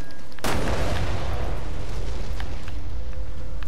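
A loud, sudden explosion in the video game Resident Evil Revelations 2, a sharp blast followed by a long rumbling, crackling tail that stays heavy and distorted.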